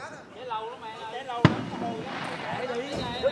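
Firecrackers set off for New Year celebrations, one sharp loud bang cutting through a cheerful crowd with people talking and laughing around it, followed by fainter crackles.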